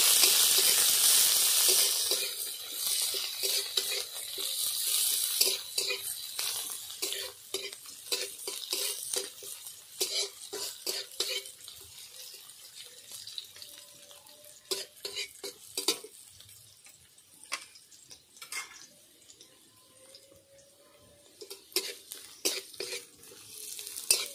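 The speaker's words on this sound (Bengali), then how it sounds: "একটা পেঁয়াজ কাটা দিয়ে দিলাম। পেঁয়াজটা ভালোভাবে ভেজে নেব।" Sliced onion sizzles steadily in hot white oil seasoned with panch phoron, with frequent scraping stirs of a spatula against the pan, close and clear with no voices.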